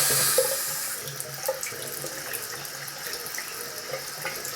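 Water pours steadily from a bathroom tap during a shave, a soft continuous splashing rush that starts a little stronger and then settles into an even flow, close by and without talk.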